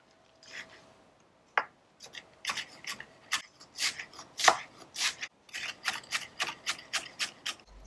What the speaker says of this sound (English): I just like to slice them cross section like this